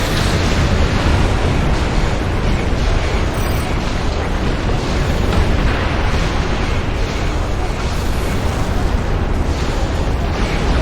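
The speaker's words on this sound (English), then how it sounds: "Look at all them torpedoes." Torpedo explosions in the Star Trek Online space combat game, a dense, continuous roar of blasts and booms that stays loud and constant throughout with no clear gaps.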